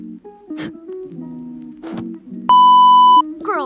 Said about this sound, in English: Girls, did you just get the notification?